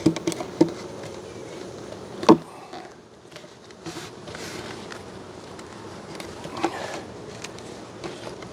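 Honey bees buzz around hive frames being pulled for extraction in hot weather, a faint, steady hum broken by a few sharp knocks and taps of handling the box, without talk.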